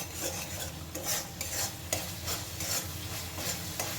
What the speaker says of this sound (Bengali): মশলাটা বেশ কিছুক্ষণ এইভাবে নাড়াচাড়া করে একদম শুকিয়ে নিয়েছি